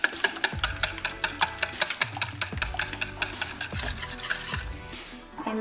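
Pancake batter of whole milk, buttermilk and egg being mixed in a bowl, with repeated scraping, clinking strokes and a few louder thumps, close and steady, no talking.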